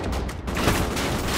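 Rapid gunfire from the Call of Duty Ghosts video game. A loud, dense burst of shots runs without a break through the whole short moment.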